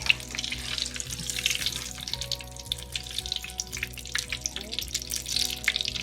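Battered chile relleno frying in hot oil, a dense continuous sizzle with bursts of crackling spatter, close up, with a low hum and faint background sounds beneath.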